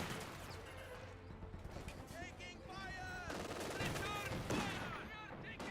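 Automatic fire from a 222 armored car in a Company of Heroes 2 battle, sustained bursts of machine-gun rattle mixed with other gunfire and distant explosions, with a commentator's voice talking over the combat.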